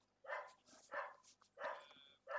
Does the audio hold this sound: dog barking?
yes